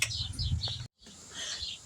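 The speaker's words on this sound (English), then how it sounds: "And the sound of the birds singing." Birds chirp outdoors in the wind, with a few high tweets over a low gusty rumble that drops out briefly before the breeze and calls return.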